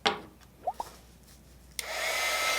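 A heat embossing gun switched on after a few light clicks and taps, its hot-air blower starting abruptly and holding a steady close whoosh.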